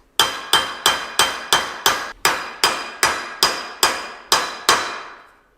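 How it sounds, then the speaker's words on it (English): Hammer tapping a bearing cap on a Ford F250 axle: about a dozen evenly spaced, crisp metallic strikes, each with a short ringing decay, the last one fading out, with no talk. "you never want to tap this with a hammer unless that stub is engaged into the cap"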